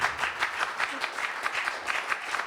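At an intimate concert, the audience gives a steady round of applause for the bassist, a soft, even patter of many hands clapping.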